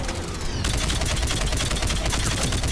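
Assault rifle gunfire in the Mass Effect 3 video game, a dense, continuous burst of loud shots with battle noise filling the whole stretch.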